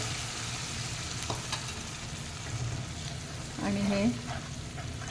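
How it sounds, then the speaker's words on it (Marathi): Onion and yogurt sizzle in oil in a pan over low heat for papad sabzi, a steady soft frying hiss with occasional stirring scrapes and a brief louder burst near the end. "दह्याला तेल सुटेपर्यंत आपण हे छान परतून घेऊयात दह्याला"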